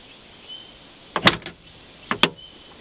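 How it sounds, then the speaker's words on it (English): Side door of a Lada Niva opening: two short mechanical clunks about a second apart, the latch release then the door swinging, close and distinct against a quiet background. "To open the side doors, press the door handle upwards."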